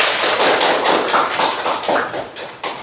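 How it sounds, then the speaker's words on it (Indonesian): Classroom students clap together in uneven, rhythmic bursts of loud, close slaps that pulse for nearly three seconds with no talking. "Tepuk tangan untuk Putri"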